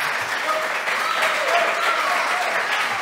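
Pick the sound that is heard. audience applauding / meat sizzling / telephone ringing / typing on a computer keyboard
audience applauding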